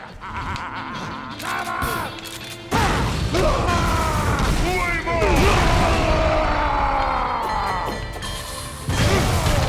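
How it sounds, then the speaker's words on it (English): Shotgun blasts from the video game Shank 2 burst out amid loud, busy game action, with heavy crashing impacts and layered effects filling the scene. "It's shotgun, it deals the most damage."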